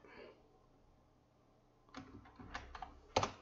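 Keys clack on a computer keyboard as terminal commands are entered, a short cluster of quiet taps arriving after a near-silent pause, with one sharper keystroke near the end.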